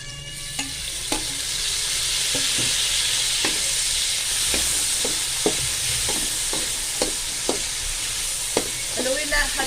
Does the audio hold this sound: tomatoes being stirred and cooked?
yes